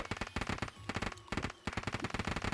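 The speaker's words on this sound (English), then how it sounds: "What is that noise? Is that fireworks?" Rapid crackling bursts of fireworks popping in the video game Terraria, dense and continuous in fast rhythmic volleys with a brief lull midway, loud and alone.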